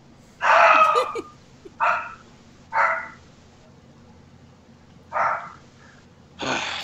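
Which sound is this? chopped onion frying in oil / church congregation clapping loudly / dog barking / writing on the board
dog barking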